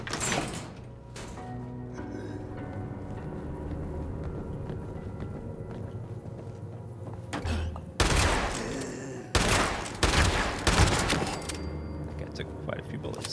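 Gunfire strikes the player in Fallout 76, with sharp bursts of shots clustered around the second half amid a steady game ambience, with a voice talking at points.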